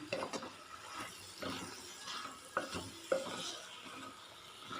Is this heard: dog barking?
no